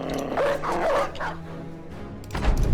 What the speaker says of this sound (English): We'll let the dogs finish him off.